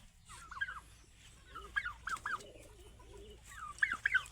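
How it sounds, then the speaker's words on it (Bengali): Turkeys on a farm give short bursts of gobbling and clucking calls close by, spread across several seconds, with quiet pauses between them. "আর এইগুলো যে টার্কি মুরগি"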